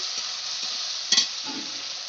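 Spice paste for a fish curry sautés in hot oil with a steady, close sizzle, broken by one brief louder crackle and faint stirring scrapes.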